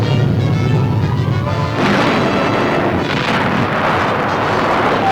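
Archival wartime newsreel audio of a final burst of artillery fire from a retreating enemy, heavy booming blasts and rumbling crashes that fill the recording at steady loudness and stay dense throughout.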